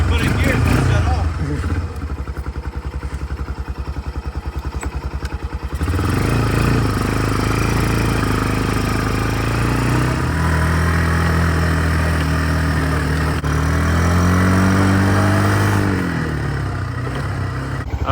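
A Kymco 150 ATV that sat for over ten years runs steadily after being revived, its small engine idling with a clattery putter and a couple of rises in pitch, close and loud throughout.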